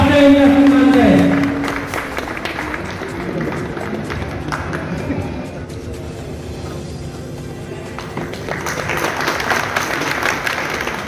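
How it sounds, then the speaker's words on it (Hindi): Audience applause at an Indian community honour ceremony, a crowd clapping steadily from start to finish, loudest in the first second or two, then continuing as a sustained wash with voices and murmur mixed in. "आप हमें लोग तालियों की गड़गड़ाहट से इन्हें सम्मान दें।"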